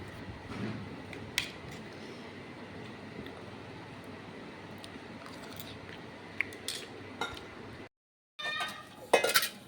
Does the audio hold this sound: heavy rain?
no